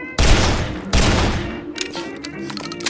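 Two loud, booming shots from a two-shot gun in Guns Gore and Cannoli go off about a second apart, each followed by a rolling echo that fades into faint clatter.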